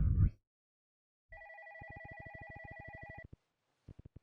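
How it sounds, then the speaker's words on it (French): A telephone rings at night in a house, a repeating electronic ring in close, even bursts for about two seconds before stopping, followed by a few faint knocks. "Qui m'appelle à une heure pareille? En plus le téléphone il est en bas."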